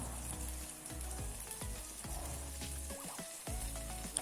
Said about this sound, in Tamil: இப்போது சுற்றிலும் எண்ணெய் விட்டுக்கலாம்.